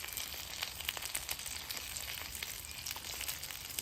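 A chicken parmesan sandwich sizzles in oil on a hot griddle just after being flipped, a loud, even crackling hiss with tiny pops throughout and no voices.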